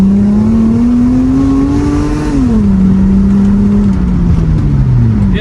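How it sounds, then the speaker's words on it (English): A 1999 Lexus ES300 V6 engine roars loudly through its exhaust while accelerating, pitch climbing, dipping at a gear change, then climbing again, close and continuous without talk. "because obviously I love to hear the exhaust."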